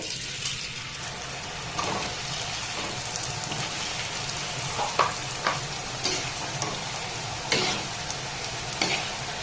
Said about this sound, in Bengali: আবারও একইভাবে সবগুলোকে আমি ভেজে নেব এভাবে আলতো হাতে দিয়ে দিতে হবে